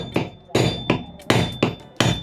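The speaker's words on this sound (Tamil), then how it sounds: "ஸோ இந்த டைமில் நான் வந்து லேசாக அடிக்கிறேன்." A hammer lightly tapping a ceiling fan shaft out of its core, six sharp strikes in an uneven rhythm, each ringing briefly before fading, close and clear with no voices.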